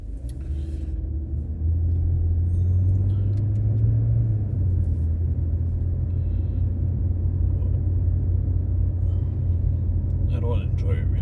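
Car driven through Montreal streets, a steady low engine and road rumble that grows louder after the first couple of seconds and then stays even, heard from inside the cabin.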